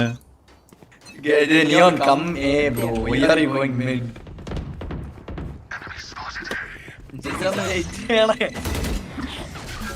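Gunfire in Valorant, heard as bursts of shots and thumps mixed beneath excited voices talking over the gameplay.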